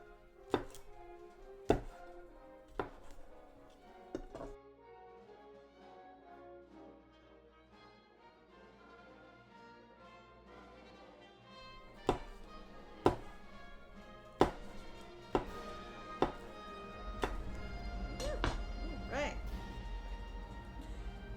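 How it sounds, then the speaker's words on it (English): A knife slicing potatoes thick on a cutting board for skewers, sharp chopping thunks in scattered bursts, a few close together, then a denser run of cuts near the end. "I'm going to slice these up nice and thick and dump them in with the onions."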